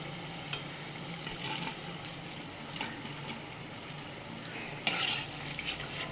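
Karabonda fritters frying in hot oil give a steady soft sizzle, broken by a few clinks and scrapes of a utensil as they are lifted out, close and moderately quiet.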